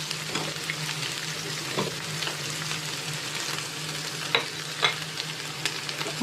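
Sliced carrots are stirred and fried in a pan for spicy chicken, giving a continuous sizzle broken by a few louder scrapes and clinks of the spoon, with no talking.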